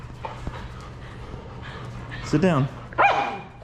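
Three dogs pant close by and give a couple of short barks and yips, with a person speaking over them outdoors.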